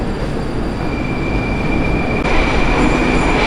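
A metro train at Sukharevskaya station in Russia rumbles loudly and steadily throughout, with a thin wheel squeal running above the roar for most of its length.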